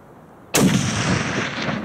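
A single loud rifle shot cracks out during an ibex hunt in the Central Asian mountains, abrupt and close, followed by a long rolling echo that fades slowly.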